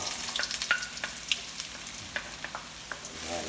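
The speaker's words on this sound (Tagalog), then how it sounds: "Ayan muna natin mag-golden brown yung ating bawang." Garlic frying in a pan as the first step of a pork estofado, a steady close sizzle with faint crackles and occasional small pops throughout.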